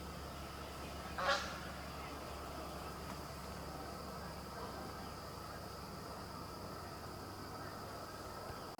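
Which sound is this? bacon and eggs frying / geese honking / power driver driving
geese honking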